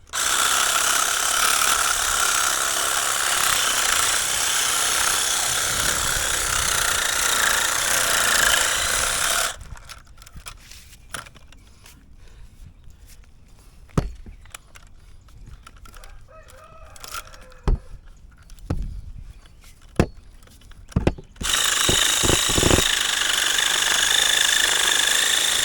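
Loud, steady power-tool cutting noise tearing into a clumping silver stripe bamboo clump to split it apart, cutting out for about ten seconds of scattered clicks and knocks before roaring back at full strength.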